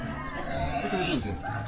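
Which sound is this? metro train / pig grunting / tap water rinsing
pig grunting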